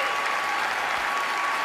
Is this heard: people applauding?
yes